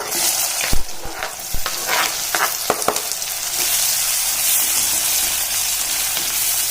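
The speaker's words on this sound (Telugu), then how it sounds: "ఆయిల్ బాగా హీట్ అయిందండి. కొంచెం జీలకర్ర వేస్తున్నాను. తర్వాత ఆనియన్స్" Cumin seeds and chopped onions hit hot oil in a pan for mutton curry, giving loud crackling sizzles with sharp pops and stirring scrapes early on, then settling into a steady hiss.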